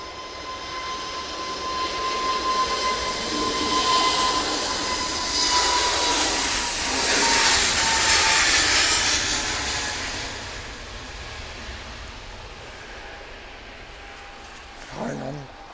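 A Turkish Airlines Airbus A321 jet arriving from Istanbul passes on landing with a broad, roaring engine sound that swells to a peak mid-pass and then fades gradually into the distance.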